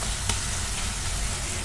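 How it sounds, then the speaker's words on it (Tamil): Onions and tomatoes sautéing on a medium flame for dhaba-style paneer masala give off a steady, close sizzle with no break, and the pan stays busy the whole time. "மீடியம் ஃப்ளேமில் வச்சு நல்லா வதக்கி விடுங்க."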